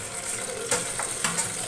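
Onion dropped into hot oil in a home kitchen pan, a steady close sizzle of frying with a couple of brief stirring clatters.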